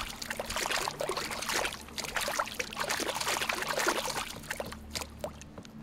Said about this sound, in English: Also, why is the water so loud?